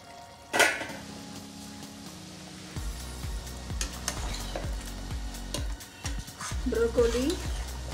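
Broccoli and chicken cook in a pan for a healthy gravy, with a soft sizzle under repeated utensil scrapes and clinks against the pan, close and fairly quiet.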